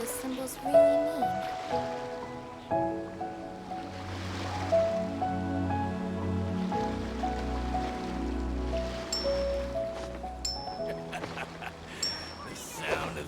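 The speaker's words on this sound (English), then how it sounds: "The sound of the ocean waves." Ocean waves in the video game Genshin Impact wash in a soft, steady surge beneath prominent melodic game music, with no speech.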